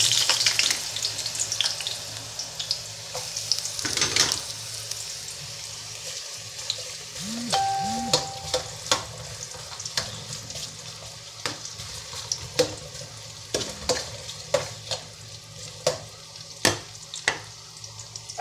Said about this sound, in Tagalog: Tingnan po natin ang ating paggisa. Uh, po, may na po ako ng kasirola. At uunahin na po natin ang ating luya.